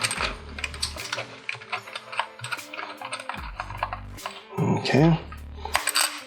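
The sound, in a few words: big screws being put in to mount a Schlage Encode deadbolt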